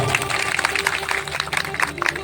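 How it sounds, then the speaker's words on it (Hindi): Audience clapping at a Bhagavat katha gathering in a residential colony, a dense, steady patter of many hands filling the space with a low hum of background noise underneath. "एक बार जोरदार ताली बजाओ"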